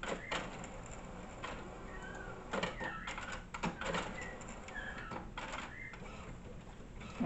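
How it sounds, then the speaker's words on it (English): Inkjet-style printer running a design onto a paper napkin at close range, with irregular mechanical clicks, feed bursts and whirring passes over a steady hum, no talk. "Okay, so now I'm going to print out my design."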